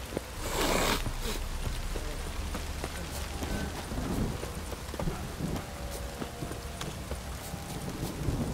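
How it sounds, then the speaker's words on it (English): A rain downpour in The Witcher 3 video game hisses steadily throughout, with a heavier gust near the start and a horse's hoofbeats clopping along underneath. "This downpour's a bastard,"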